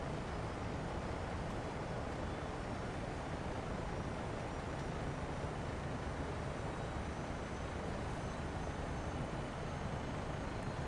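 A BO 105 helicopter engine spooling up during start, a steady, dense whine and roar that holds constant and fairly quiet throughout, no voices.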